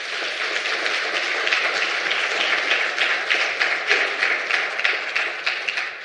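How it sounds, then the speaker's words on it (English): Audience applause at an annual competition law, economics and policy conference, a dense sustained clapping from a large crowd that holds steady for the full stretch with no talk over it. "warm round of applause for that."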